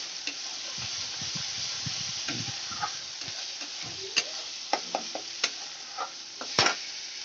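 Onion and green chili paste stirred and sautéed in a pan, a steady soft sizzle with intermittent scraping strokes of a spatula and a few sharper clicks, close and fairly quiet.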